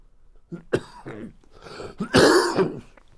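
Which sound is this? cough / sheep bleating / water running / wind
cough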